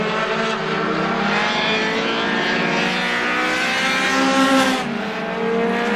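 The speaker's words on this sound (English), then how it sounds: "The battle raging on behind him for the second spot between Jason Moby Dick and the 27, your defending champion Paul Wainwright." Race cars at Star Speedway during a Roadrunner feature, several engines roaring together in a continuous loud drone with shifting pitch as cars battle close by, a brief swell near the end as one passes.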